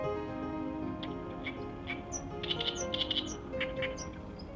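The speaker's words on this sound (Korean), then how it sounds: "을숙도에는 갈대숲과 함께 물이 가까이 있어 물새, 산새 가리지 않고 많은 종류의 새들이 모여든다" Birds at the Nakdong River delta reed beds near water, short high chirps and tweets scattered through a steady low outdoor background, fairly close and moderately loud.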